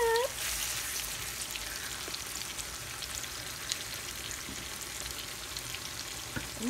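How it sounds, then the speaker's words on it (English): Hamburger meat seasoned with tomato cooking base frying and being stirred in a pan, a soft continuous sizzle with faint clicks of the spoon against the pan. "I put 2 scoops of each of those into the hamburger meat. And so I am stirring it up."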